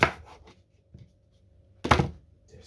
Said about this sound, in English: I'll just chop off that end bit and that end bit there